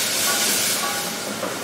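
Roasted capsicum and its juices hit a hot pan, giving a loud, steady sizzling hiss close up that eases slightly toward the end.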